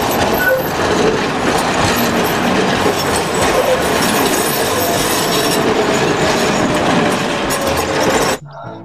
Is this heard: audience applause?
no